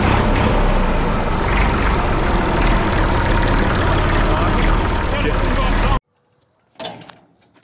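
An IMT 540 tractor engine runs loud and steady with a dense, unbroken rumble for about six seconds, then cuts to near silence before a short burst of noise.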